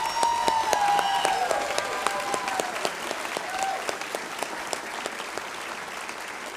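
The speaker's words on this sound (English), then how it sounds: "Let's clap for them again." An audience claps for pharmacy students at a white coat ceremony, a moderate, steady ripple of applause heard at some distance, with faint voices and a brief whistle-like tone near the start.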